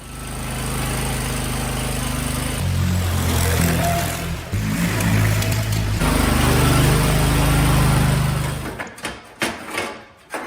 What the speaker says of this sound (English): before I put the covers on, I want to run it one more time. Make sure she's sounding good.